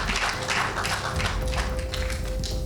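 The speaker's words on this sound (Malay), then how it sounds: "Tepukan gemuruh kepada beliau, dipersilakan." An audience applauds as footballer Safee Sali is invited to speak, producing thick, uneven clapping under a low steady hum, fairly loud and continuous from start to end.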